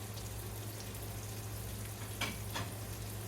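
A single very small zucchini fries in a pat of butter in a pan, giving a faint, even, continuous sizzle with a couple of brief, slightly sharper pops near the end.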